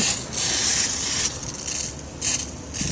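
An inground sprinkler head sprays water in a corner of a yard with a steady hiss that surges and eases in pulses, close by and fairly loud, with no voices.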